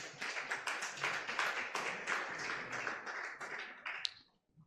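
A fintech conference audience claps for several seconds in a dense, lively burst of many hands, then quickly tapers off, ending with one last isolated clap before near silence.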